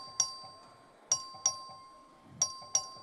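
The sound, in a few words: legislative chamber voting bell ringing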